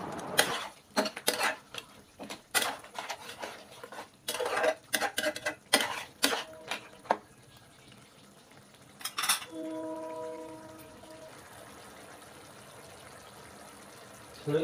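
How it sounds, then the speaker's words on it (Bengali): A spoon scrapes and clinks against a pan while spicy crab curry (kakra bhuna) is stirred, with a cluster of sharp irregular taps, then a quieter stretch with a brief steady tone. "দিয়ে আরও কিছুক্ষণ খুব সুন্দর করে নেড়ে চেড়ে নিলাম।"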